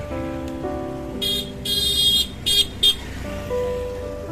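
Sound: heavy street traffic with car horns in Chintpurni market

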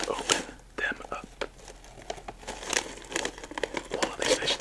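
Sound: opening a bag of sunflower seeds

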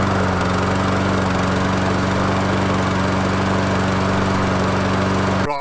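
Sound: SABO commercial lawn mower starting and running

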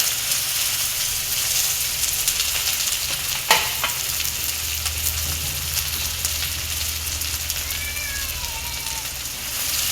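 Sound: onion frying in hot oil with spluttered mustard seeds

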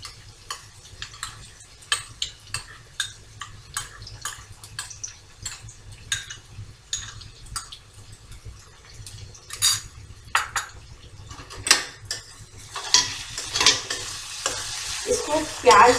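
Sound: peanut paste stirred and fried with onion, ginger, garlic

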